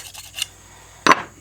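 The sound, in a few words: scraping old fletching off carbon arrow with knife spine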